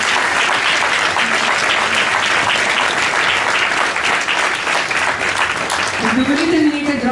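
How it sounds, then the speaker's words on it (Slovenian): Loud, sustained applause from an outdoor crowd at the Kresnik literary award ceremony for laureate Drago Jančar, dense clapping throughout, with a voice starting to speak over it near the end. "odličen velik aplavz"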